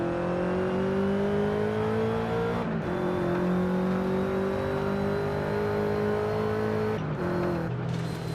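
A wide-body Subaru STI in Forza Horizon 5 drives from the in-car view, its engine droning steadily as it accelerates, with brief breaks for gear shifts.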